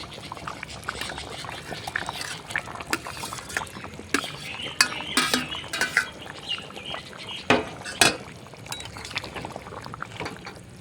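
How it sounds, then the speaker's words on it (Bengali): A metal spoon stirs spicy mutton curry in a cooking pot, giving irregular scrapes and sharp clinks against the metal over a low simmering bubble, close by with no voices. "একটু নেড়ে চেড়ে দিয়ে ভাজা কোয়াশগুলোকে"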